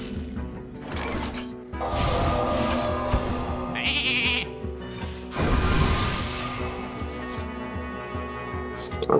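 A loud sheep bleat rises over a busy background of clattering and mechanical noise, with a second wavering bleat later on.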